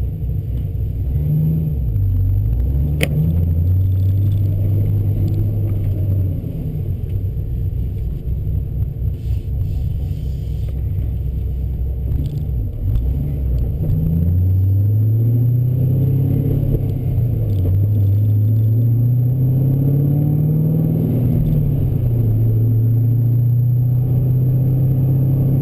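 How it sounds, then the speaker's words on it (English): A 2011 Camaro with an LS3 V8 and a stage 2 camshaft idles with a loud, lumpy, choppy rumble, close and steady for the whole stretch, with a few rises and dips in engine speed along the way. "Engine immediately settled into an 850 idle."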